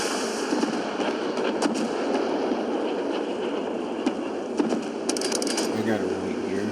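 Warship missiles launching and exploding in the naval video game Force of Warships, a dense rumbling barrage of booms and cracks over a constant roar, with game voices in the mix.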